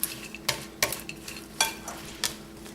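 A spoon mixes a turkey sausage salad with pepper in a bowl, making several scraping, clinking strokes at an irregular rhythm, close and moderately loud.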